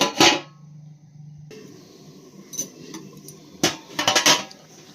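Clanking metal lid knocks against a cooking pan as it is set on and lifted off, sharp clinks and rattles in a few close bursts, with a brief hissing stretch between them.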